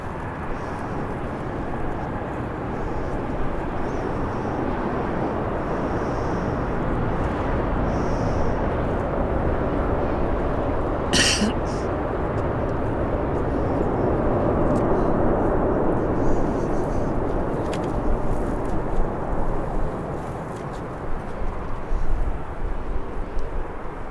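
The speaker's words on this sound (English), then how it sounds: "Another great aircraft to see at Birmingham Airport." A jet airliner at Birmingham Airport, a loud, sustained roar of engines that swells slowly toward the middle and stays broad and rumbling for over twenty seconds, with brief faint voices nearby.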